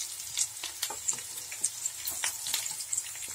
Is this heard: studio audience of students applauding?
no